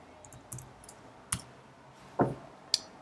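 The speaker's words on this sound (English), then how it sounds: "So I'm typing a tweet here," Computer keyboard keys are tapped sparsely while a tweet is typed, a handful of separate light clicks spread unevenly over a few seconds in a quiet room.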